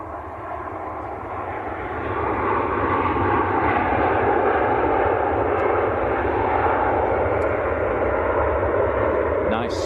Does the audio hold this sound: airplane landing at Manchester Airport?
yes